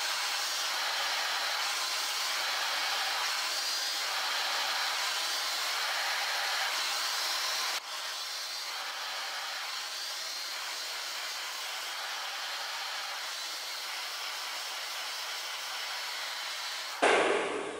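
Hair dryer blowing steadily at close range during an at-home salon-style blowout of the front hair, a loud continuous whooshing roar that shifts briefly partway through and cuts off near the end, with no talk.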